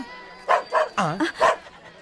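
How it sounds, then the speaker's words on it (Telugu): A dog barks several times in a quick, irregular series of short, close, fairly loud yelps within a comedy film scene, with no talk over it. "ఆ కుక్కేంటి?"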